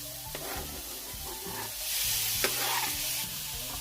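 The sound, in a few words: Swiss chard sautéing in butter, stirred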